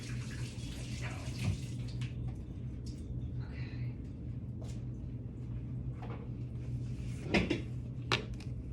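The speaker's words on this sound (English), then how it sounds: "Let me just wash my hands really quickly." Hands are washed under running tap water from a faucet, a soft steady stream with a low hum beneath and a few scattered knocks and splashes, heard fairly close with no talking.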